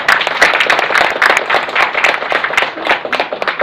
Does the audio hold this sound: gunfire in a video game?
no